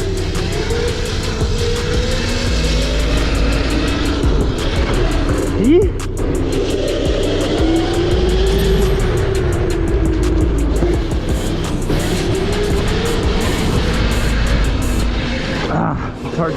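Razor 72V electric bike being ridden, a steady whining motor drone with wind rush and road rumble, loud and close throughout, with faint talk in the background.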